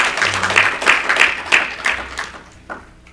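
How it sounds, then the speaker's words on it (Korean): A church congregation at a Sunday service claps in welcome, a short round of applause with distinct clap bursts that gradually fade out, with a few faint voices underneath. "우리 박수로 환영하겠습니다."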